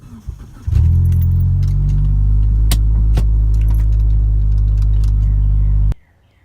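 A 1999 Mitsubishi Eclipse GSX being moved into a garage, its engine starting with a jolt into a loud steady idle rumble with a few sharp clicks and rattles, then cutting off abruptly near the end.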